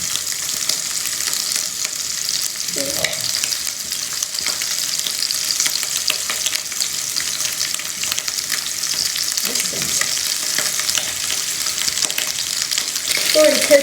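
Sliced meat sizzles in a hot pan, a loud, steady crackle and spatter close to the microphone, with occasional stirring scrapes and no talk.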